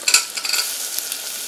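Onions and tomato sizzle in a hot pan, a steady hiss with a few soft stirring scrapes near the start, close and moderately loud.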